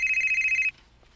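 A cellphone rings in a drama scene: one steady electronic ring tone, close and fairly loud, lasting under a second before cutting off into quiet room tone.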